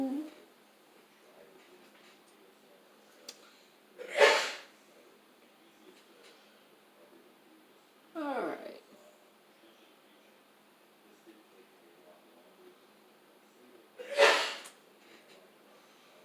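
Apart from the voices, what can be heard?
sneeze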